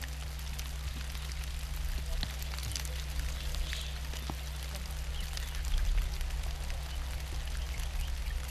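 Rain begins falling in the Thar desert of India in November, a steady, even patter and hiss that holds throughout with no voices.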